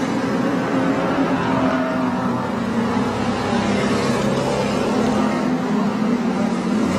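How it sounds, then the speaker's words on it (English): A rough, unhealthy-sounding street stock race car engine drones loud and continuous at a speedway feature race, a steady low rumble with a sustained tonal hum and no break. "Somebody's car out there not sounding very healthy at all."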